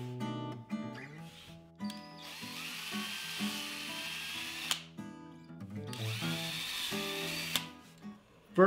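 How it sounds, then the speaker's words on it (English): A power drill bores holes in wood close by, its motor whine rising and falling in pitch as it spins up, bites and slows, with brief pauses between runs. "Then I'll drill a hole at those marks,"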